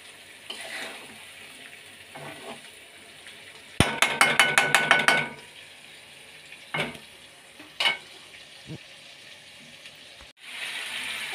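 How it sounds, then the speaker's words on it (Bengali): Potatoes being mixed with spices in a Bengali kitchen while making fish chops: a quick burst of rapid stirring clatters mid-clip, with scattered scrapes and taps before and after, close and fairly loud, no talking. "দেখো আলুগুলোতে একটু মশলাটা মাখিয়ে নিলাম।"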